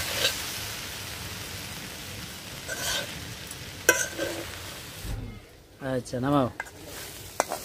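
Potatoes frying in oil in a wok over a village cooking fire, a soft continuous sizzle with a few scraping stirs, followed by brief nearby talk.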